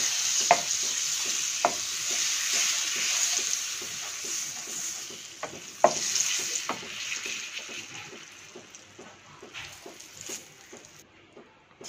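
Ginger, bay leaves and cardamom fry in oil and butter in a pan for paneer cashew butter masala curry, a steady close sizzle broken by scattered spoon clinks and stirring taps that slowly quiets.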